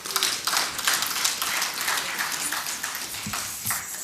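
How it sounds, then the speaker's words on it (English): Audience in a parliamentary plenary session clapping together for a returning member, a sustained burst of many hands at moderate loudness, the applause holding steady and slowly thinning, with no speech over it. "Can we clap for her again?"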